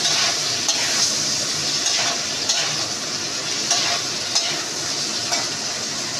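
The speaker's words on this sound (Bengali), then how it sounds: "আমি প্রথম শিম ডাল রান্না করছি। এদিকে এটা মোটামুটি কষানো হয়ে গেছে।" Bean dal being stirred and fried in a pan, a steady close sizzle with repeated scraping strokes of a spoon through the thick mixture, continuous and alone without talk.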